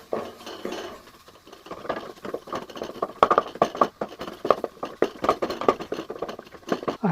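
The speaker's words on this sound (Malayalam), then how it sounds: "ഇതൊക്കെ ചേർത്ത് നന്നായിട്ട് മിക്സ് ചെയ്യാം." Ingredients are being stirred together in a pot, producing irregular clinks, scrapes and knocks of a utensil against the pot that grow busier and louder toward the end, close by, with no talking.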